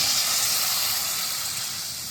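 Water poured into a hot pan during cooking of a dried bombil curry releases a steady, loud hiss of steam that tapers slightly, with no talking.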